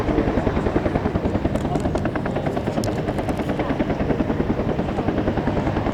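Huey helicopters idling on the airfield at an American-themed air show at Duxford, a loud, steady rotor chop with a thick engine whine, pulsing rhythmically and close throughout.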